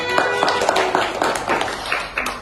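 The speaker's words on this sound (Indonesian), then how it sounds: "Tepuk tangan." A classroom of students gives a short burst of scattered clapping, light and uneven, with a few sharper claps standing out.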